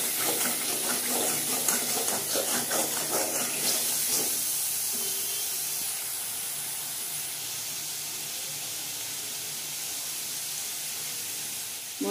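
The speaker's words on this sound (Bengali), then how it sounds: "এই মশলাগুলো দিয়ে দিচ্ছি। এগুলোকে ভালো করে কষিয়ে নেব।" Spices sizzle in hot oil for mouri potol, a Bengali vegetarian pointed gourd dish, with a steady close hiss that eases slightly over time and no voices.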